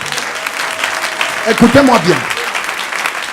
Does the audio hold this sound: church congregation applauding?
yes